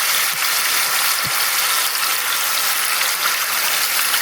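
Chicken pieces marinated in fajita sauce frying in a pan, a dense, steady sizzle with a faint low knock or two, no talk.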